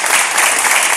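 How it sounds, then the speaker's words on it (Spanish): Dense, loud applause from an audience in a short one-second burst of continuous clapping, given in solidarity during a talk with Open Arms volunteers about the refugee crisis on the Greek coast. "si le sirve un aplauso, pues allá va, el aplauso solidario."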